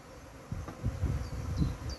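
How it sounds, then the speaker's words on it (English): Swarming bees at an allotment plot, a faint buzzing hum of many insects in the open air, low and steady across a couple of seconds. "we've got bees swarming, and hopefully you'll be able to see them if you can't hear them"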